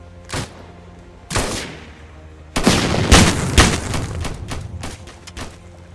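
Scattered gunshots in Roblox Military Tycoon, then a dense burst of rapid fire with booming blasts, sharp and fairly loud, trailing into occasional shots.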